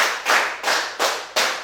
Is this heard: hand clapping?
yes